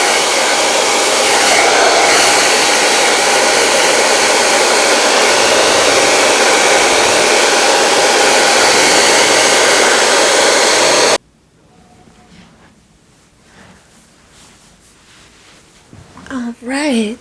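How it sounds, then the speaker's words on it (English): A hair dryer on a warm setting blows steadily and loudly at close range for about eleven seconds, then shuts off, leaving quiet room sound and a brief voice near the end. "So I'm going to go ahead and blow dry this hair on a warm"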